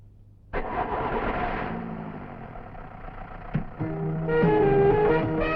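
A vehicle engine in a Malayalam film scene abruptly cranks and catches, then settles into a steady, fairly loud idle hum, with tonal notes joining near the end.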